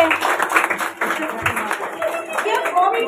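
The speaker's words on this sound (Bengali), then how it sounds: "সবাই জোরে একটা হাততালি দেবে।" An audience claps in welcome for a yoga teacher at a school Teachers' Day event. A short, lively patter of hand claps runs beneath overlapping talking voices.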